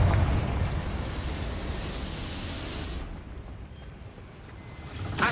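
A Confringo blast spell explodes in Hogwarts Legacy, a rumbling burst that rolls and decays over several seconds, dropping to a quieter tail before a fresh sharp hit at the end.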